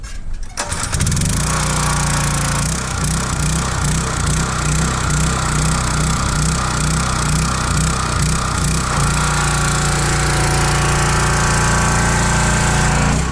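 A small pressure washer engine catches after a quick pull-start and settles into a loud, steady, buzzing run that continues without pause.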